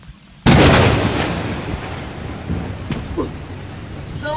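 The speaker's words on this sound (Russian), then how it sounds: "видит на море черная буря" Storm at sea with thunder: a sudden loud thunderclap breaks in, followed by a long rolling rumble and heavy roaring wind and rain that slowly fade, with no speech.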